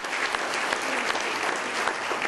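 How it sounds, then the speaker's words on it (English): A crowd at a comedy show by a Chicago police chaplain claps steadily in dense, continuous applause, loud and sustained throughout. "Let's give him a round of applause."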